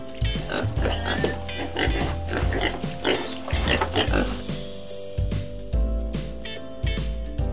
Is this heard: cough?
no